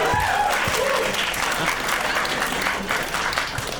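A studio audience claps and cheers in a dense, continuous burst of applause, with faint voices underneath.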